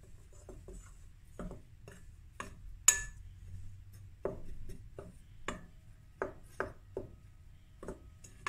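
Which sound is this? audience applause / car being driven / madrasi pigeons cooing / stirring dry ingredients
stirring dry ingredients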